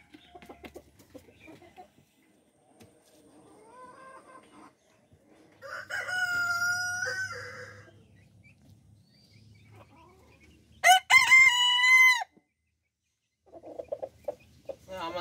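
Chickens clucking and a rooster crowing on a Bangladeshi hobby chicken farm, with soft clucks, one crow in the middle, then a louder, sharper crow near the end, all fairly close with quiet gaps between.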